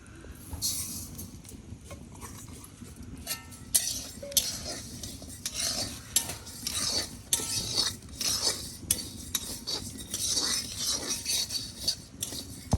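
Lentils (dal) dry-frying in a metal wok, stirred with a spatula that scrapes and clinks against the pan in irregular, close strokes, with a faint sizzle underneath and no voices.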